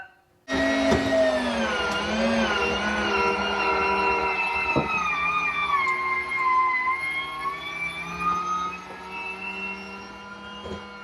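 Landing gear retracts on a small aircraft, the Silver Bullet, as a loud, steady mechanical whine that starts abruptly and holds a sustained tone with a slowly shifting pitch. Faint clicks sound over the whine, and no one talks.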